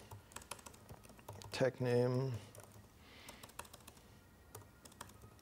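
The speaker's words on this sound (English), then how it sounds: "let me just do a typing exercise again" Computer keyboard typing during a coding session: scattered light key clicks throughout, fairly quiet and close, with someone briefly speaking partway through.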